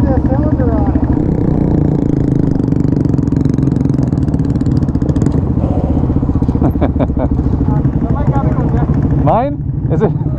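A Honda Grom fitted with a two-stroke engine idles loudly and continuously right up close, with a rough, rattling buzz throughout, while people talk over it.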